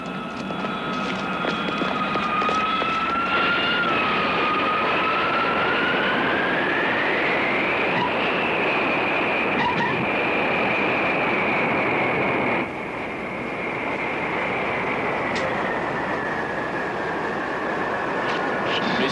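Jet airliner landing at an airport, heard as a loud, sustained turbine roar and whine with shifting tones that continues steadily throughout, then drops slightly toward the end.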